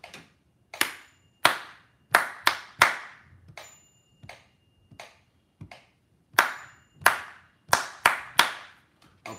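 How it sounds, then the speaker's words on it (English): One person's hand claps tap out a rhythm pattern, sharp close claps spaced irregularly with short gaps and pauses, no talking in between. "I'll clap it for you."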